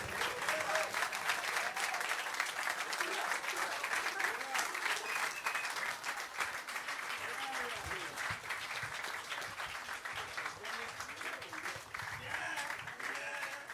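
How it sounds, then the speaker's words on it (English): A crowd applauds steadily and loudly for over ten seconds, a dense, sustained clatter of clapping with a few voices mixed in. "One last round of applause for the whole thing"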